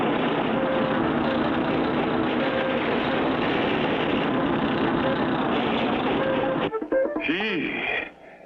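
A cartoon bulldozer engine drones loudly and steadily while pushing oily sand, then cuts off into brief squeaky cartoon sound effects at the end.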